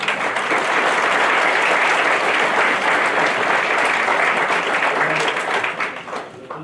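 A room of people at a county commission meeting claps in sustained applause, dense and loud, holding steady before tapering off near the end.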